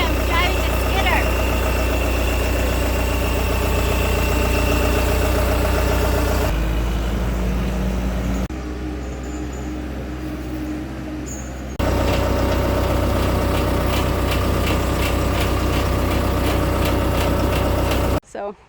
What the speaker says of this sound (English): Today I'm driving the skidder.